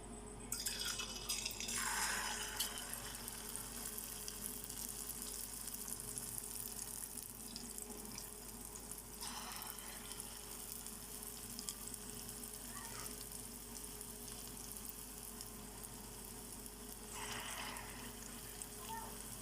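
Bondas deep-fry in hot oil, a steady close sizzle and bubbling hiss that holds for the whole stretch, with faint clinks now and then.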